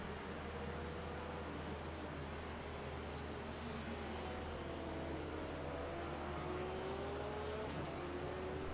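GT3 race cars, including a BMW, lapping at Snetterton, heard as a steady, somewhat distant engine drone with rising and falling pitch as the cars accelerate, constant and moderately faint.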